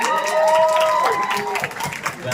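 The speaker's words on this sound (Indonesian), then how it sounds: "Beri aplaus sekali lagi untuk Sandy dan Beniaga." Applause and crowd cheering ring out for dance performers at the Bank Indonesia Nusantara dance competition. The clapping is steady and fairly close, with a voice carrying tones over it throughout.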